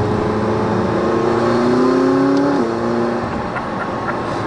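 McLaren 600LT sports car with top-exiting exhausts, heard from inside or near while driving: a loud, steady engine and exhaust note that rises in pitch as it revs, then drops sharply at a gear change and settles back to a lower drone.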